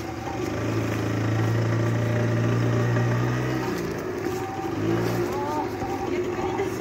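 Vintage Yamaha Salient moped scooter running while ridden, a steady buzzing small-engine drone with shifting pitch and a slight dip partway through, heard close under continuous wind and a rider's talk.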